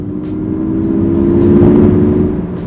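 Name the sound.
Mazda MX-30 artificial electric motor sound through speakers, accelerating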